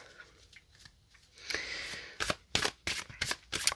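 Crisp riffling and flicking of Tarot of Marseille cards with textured backs being shuffled, a quiet rustle first, then a run of sharp, close bursts in quick succession.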